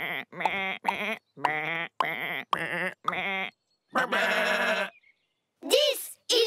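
Cartoon sheep bleat repeatedly in a quick series of short, nasal, wavering baas, loud and close, separated by brief pauses, with one longer bleat and a higher call near the end.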